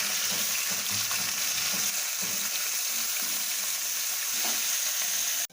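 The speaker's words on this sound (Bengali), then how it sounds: "মাছগুলো লাল লাল করে ভাজা হয়ে গিয়েছে" Pieces of rui fish fry in hot oil with a loud, continuous crackling sizzle, close up and unbroken for several seconds before cutting off abruptly, with no voices.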